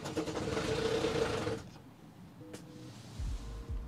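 A non-running car engine cranks with a rapid rhythmic whirr for about a second and a half, then stops without catching, followed by a brief click and low thumps, close and without talk.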